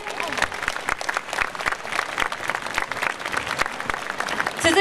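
An indoor crowd at a stage ceremony during a prefectural festival at Makuhari Messe applauds steadily to welcome performers, with a dense patter of clapping that swells slightly near the end.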